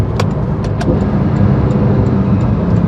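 A 2012 Porsche 911 Carrera S engine drones steadily at close range while driving, a constant low hum with faint clicks and no voices.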